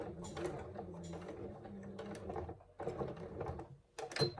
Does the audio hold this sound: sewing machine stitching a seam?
yes